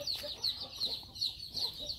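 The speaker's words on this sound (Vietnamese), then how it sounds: "Ôi trời, gà," Chickens cluck at a farm on Phu Quoc island in Vietnam, with repeated short clucks in an uneven rhythm. The birds sound moderately close and there is no talking.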